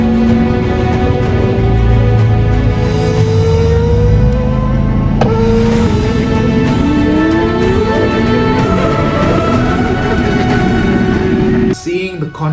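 A Formula 1 car crawls slowly through roadworks, its engine a steady low drone with shifting tones, nearby traffic running alongside throughout, ending in a brief clatter.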